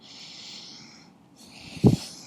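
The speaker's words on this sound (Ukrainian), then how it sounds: "Дихаємо через ніс." Deep breathing through the nose during a vinyasa yoga session: a slow, airy inhale, a pause, then a second breath ending in a short, heavier nasal puff close to the microphone.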